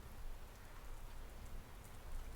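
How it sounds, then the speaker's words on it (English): Light rain patters softly and continuously on a surface, faint and close, with a single slightly louder drop near the end and no voices. "The rain makes you nervous."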